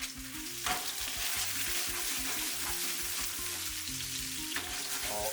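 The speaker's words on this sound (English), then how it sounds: "Now add about a tablespoon of butter." Butter sizzling and frying in a hot pan with pan-seared salmon fillets, a loud continuous crackle with occasional stirring or shifting, no voices.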